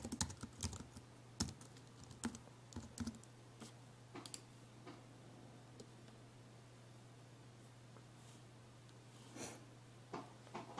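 Keystrokes on a computer keyboard while entering an Apple ID password during iPod 5th generation activation, heard as sparse clicks and short bursts of taps over a steady low hum.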